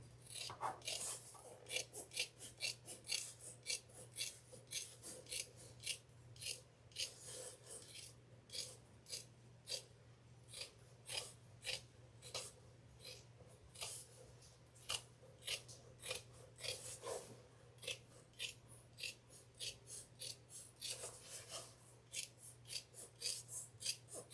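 Scissors snip steadily through fabric being trimmed for a handbag, a long run of crisp, rhythmic cuts heard up close with a faint low hum underneath.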